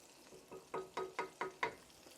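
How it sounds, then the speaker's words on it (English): Barbecue sauce being stirred in a pan, with about five soft rhythmic scraping strokes in a row, quiet and close, and a faint bubbling underneath. "Give the barbecue sauce a stir."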